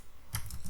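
Computer keyboard keys tapped in a quick short burst of light clicks, close and quiet, over a faint background hiss while text is entered in CorelDRAW.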